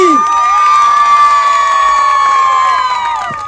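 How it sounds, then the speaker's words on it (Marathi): A crowd cheers the winner of a Paithani saree contest at a Home Minister game-show event in Nalasopara, a loud, sustained burst of shouting and whooping that holds for about three seconds and then fades. "एकदा जोरदार टाळ्या झाल्या पाहिजेत पाटील वहिनींसाठी"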